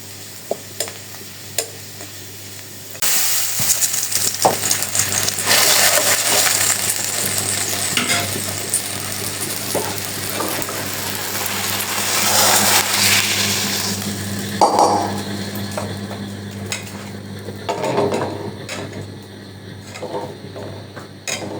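Hot oil tempering (bagar) poured into chicken feet soup crackles and sizzles loudly, with a burst of frying hiss swelling through the middle and light stirring clinks, no voices.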